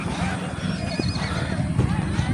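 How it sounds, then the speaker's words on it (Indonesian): At a natural hilltop lake, a horse whinnies amid the clip-clop of hooves while people talk nearby over a steady outdoor background. "Tuh, bisa bawa kuda juga,"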